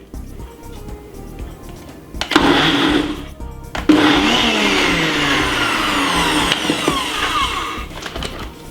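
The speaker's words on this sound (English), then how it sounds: "I'm just gonna give it a quick chop, just to get the veg a little bit soft up" A food processor chops vegetables in short bursts, its motor whirring loudly and close in two pulses, the second running longer with a rising whine before dropping away.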